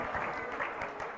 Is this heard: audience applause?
yes